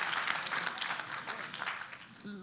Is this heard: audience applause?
yes